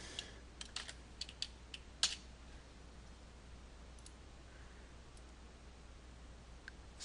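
Someone types a value on a computer keyboard, a few light, close key taps scattered unevenly at the start and again later, separated by quiet steady room noise.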